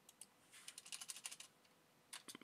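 Keys on a computer keyboard are tapped in a quick, faint burst of clicks, followed by a pause and a few more keystrokes.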